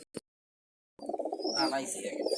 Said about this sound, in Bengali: এই যে এই এক জোড়া কবুতর দেখতে পাচ্ছি